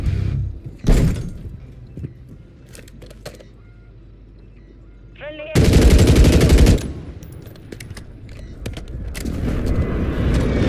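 Gunfire erupts in Warzone battle royale as a sudden, loud, sustained burst of rapid shots, set between sharper single thumps and quieter game ambience.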